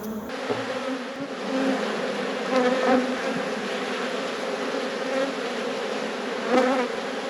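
Honey bees buzz steadily around an open hive during an inspection, a dense close hum that swells with a few louder passes as bees fly near.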